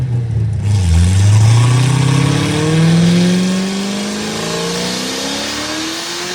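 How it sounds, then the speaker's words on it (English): A Corvette Z06 C6 engine revs hard and loud on a dyno with wheel spin, pitch climbing in long sweeps, with a steady roar continuing throughout and no talking. "This might be actually one of the most complicated dyno runs we have ever done"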